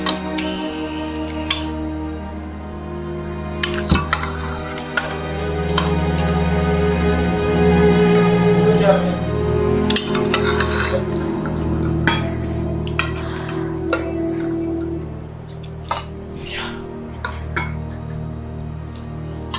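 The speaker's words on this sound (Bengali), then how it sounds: "এটা প্রথমে আগে ঢেলে নিই।" Chicken stew with vegetables, cooked in a pressure cooker, being poured out for serving: clinks of utensils against pots and dishes, liquid sloshing, close and steady over a low kitchen hum, with no talk.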